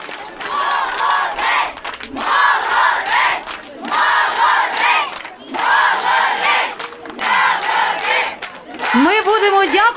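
Village karaoke crowd in Yavoriv erupts in loud cheering and whooping for the winning 10th-grade singer, swelling in repeated surging bursts over ten seconds, with a brief rising shout near the end.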